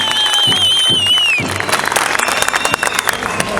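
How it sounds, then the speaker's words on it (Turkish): Crowd at a CHP political rally in Iğdır bursts into dense, loud applause after a few seconds of whistles and scattered claps, the clapping continuing steadily to the end. "Şöyle kocaman bir alkışla kimseye ödülüyle."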